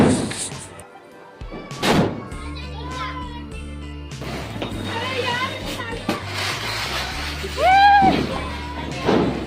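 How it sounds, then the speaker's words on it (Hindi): Diwali firecrackers go off in sharp, loud bangs, one early and another later, with children chattering and shouting nearby throughout. "यहाँ स्टार्ट होता है बम फोड़ने का टाइम।"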